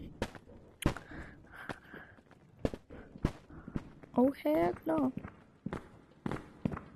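Heavy monster footsteps in the video game Animal Company, a run of thudding steps spread across the stretch, under several people chatting with a brief exclaimed voice in the middle.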